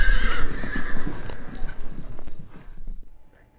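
A horse neighs loudly and close up in a sound effect, the whinny trailing off over a few seconds amid hoof clip-clops.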